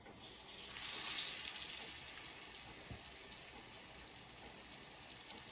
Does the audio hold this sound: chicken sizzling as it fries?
yes